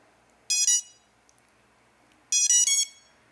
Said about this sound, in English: I'm hearing all four motors fire, so we are good to go.